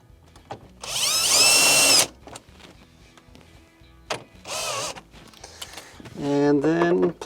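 Cordless power drill driving a 1/4-inch screw into a GE refrigerator ice maker, loud whirring bursts of varying length with short pauses between them.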